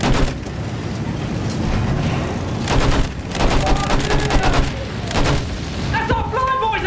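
Battlefield gunfire and booming blasts in a WWI combat scene, loud continuous bursts and impacts with rapid repeated shots, voices shouting over the din.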